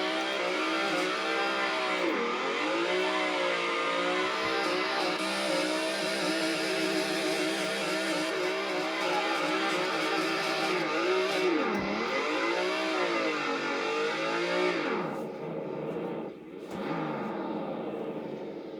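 Race car engine in a sim racing video game revving hard while power braking, a loud continuous high-pitched roar with repeated rises and dips in pitch, alone without talk.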